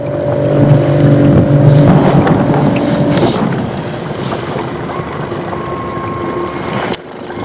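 An outboard motor with electric trim drives a boat across a lake, its engine drone loud and close with tones shifting as it changes pitch, mixed with strong wind buffeting and water rush.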